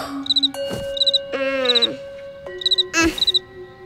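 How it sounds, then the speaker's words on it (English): A cricket chirps at night in a cartoon, bright rapid trills in short repeated bursts over soft background music, with a couple of louder swooping cartoon sound effects. "It's impossible to fall asleep with that cricket."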